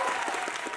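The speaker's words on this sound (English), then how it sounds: "Family and friends sat in the audience, cheering the seniors along." Applause from an audience of family and friends at a senior dance showcase, a dense, steady wash of clapping sustained throughout the short moment.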